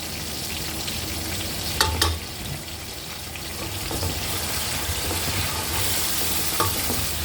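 Steady sizzling and frying of garlic ginger paste with tomatoes in a hot pan, with a couple of brief clinks and stirring scrapes over the continuous crackle.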